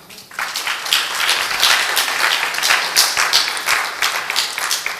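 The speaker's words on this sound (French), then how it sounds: "Applaudissez" An audience at a French spelling championship bursts into applause, dense clapping starting quickly and holding steady for several seconds, loud and close.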